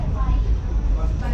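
Low, steady rumble and rattle inside a moving passenger train heading through Siliguri toward NJP, with a continuous muffled drone.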